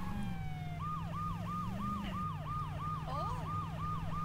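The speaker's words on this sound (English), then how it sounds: "Turn your sirens off. That's what the sirens are supposed to do." Emergency vehicle sirens in the video game Saints Row 2, a loud rising and falling wail repeating in quick cycles over a steady low engine drone, with a second siren overlapping near the end.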